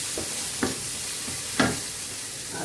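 Tomato and green chillies fry in hot oil in a pan for a Bengali rohu and aubergine fish curry, giving a steady close sizzle with two short scraping stirs that stand out.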